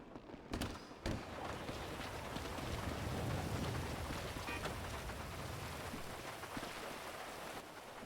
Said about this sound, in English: It is raining, so I hope you brought an umbrella.